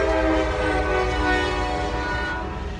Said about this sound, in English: I have a train coming by soon.